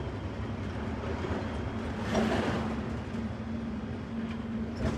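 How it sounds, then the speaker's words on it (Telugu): Steady low rumble of a train coming to a stop, with a constant mechanical hum, swelling briefly in the middle before settling again, heard from close by. "ట్రైన్ ఆగేది చూడండి"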